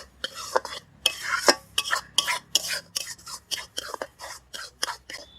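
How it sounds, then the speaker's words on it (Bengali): Son papdi mixture being stirred by hand in a pan, giving a run of short scraping strokes in an uneven rhythm, close and moderately loud with brief pauses between strokes. "এটা ভালো করে এখন দু থেকে তিন মিনিট নেড়ে নেব"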